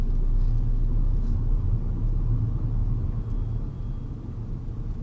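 Car driving in fifth gear with a loud, steady low rumble of engine and road noise. The sound is continuous and close, and it fades slightly toward the end.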